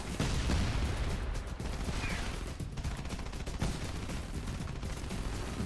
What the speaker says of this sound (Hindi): इधर तो धुआंधार दिवाली चल रही है, दोनों तरफ से रॉकेट ही रॉकेट।